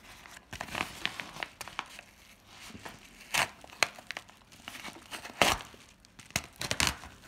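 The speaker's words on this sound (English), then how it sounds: "cut the packaging open" Plastic packaging around a camera mount is cut and torn open, giving irregular crinkling, rustling and short tearing bursts at close range, with no voices.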